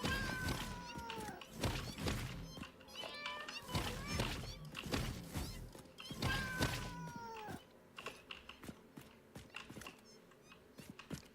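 Cat-like alien creatures in the game Satisfactory meowing and squeaking repeatedly, close and overlapping in a fast string of cries, with thumps mixed in and a quieter stretch toward the end.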